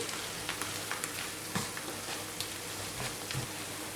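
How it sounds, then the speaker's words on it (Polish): Steady sizzling and crackling of food frying in a pan with mustard and parsley, continuous and close, with a few soft stirring clicks and no talking. "To wszystko smażymy jeszcze przez około 2 minuty."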